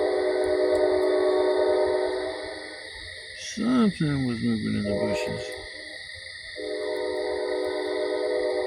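A train passes at night near a camp in the bushes, its steady rumble and horn-like tones droning throughout, easing briefly while someone speaks close by, then swelling again.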